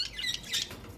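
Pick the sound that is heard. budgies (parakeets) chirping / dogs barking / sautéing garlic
budgies (parakeets) chirping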